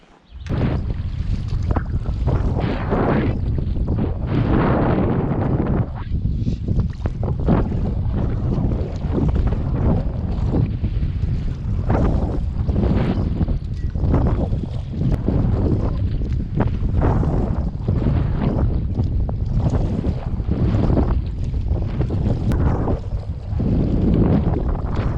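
Strong wind blows over open water with big swells, buffeting the microphone in loud, continuous gusts that rise and fall throughout, with no voices.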